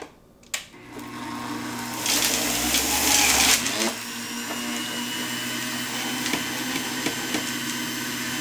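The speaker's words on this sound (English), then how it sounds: "And we can juice our lemons on low because they're much softer" Electric juicer running on low speed while juicing soft lemons, a steady motor whine with a harsher grinding surge in the middle, then settling into a continuous hum, close and alone.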